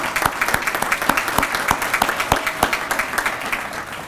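Audience applause at a Project Lead The Way kickoff event, a steady room-filling patter of many hands clapping with regular sharper claps standing out, continuous and fairly loud throughout.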